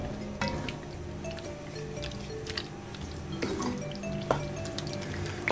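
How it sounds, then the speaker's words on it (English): Beef stroganoff, Brazilian style, is stirred in a pot, producing soft, continuous wet squelching and sloshing with small drips, close by and alone. "we're giving it a good stir, make sure everything's mixed in"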